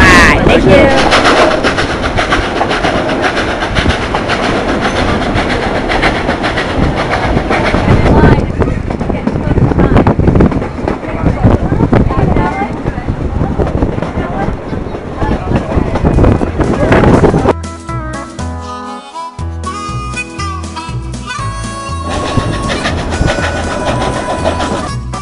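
Durango & Silverton narrow gauge train rumbling and clattering steadily along the rails, a loud continuous roar with wind buffeting, easing into a quieter, more tonal stretch near the end.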